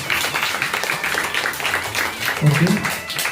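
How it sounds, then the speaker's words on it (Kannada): Clapping for the girl students who sang, a moderate patter of applause running beneath a speaking voice that stays prominent throughout. "ತುಂಬಾ ಸುಂದರವಾಗಿ ಹಾಡಿದ ವಿದ್ಯಾರ್ಥಿನಿಯರಿಗೆ ಇನ್ನೊಂದ್ಸಲ ಜ್ವರ ಚಪ್ಪಾಳೆ ಬರಬೇಕು ಮಕ್ಕಳಿಗೆ"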